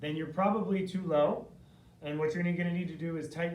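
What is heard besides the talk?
None of the usual background noises is heard.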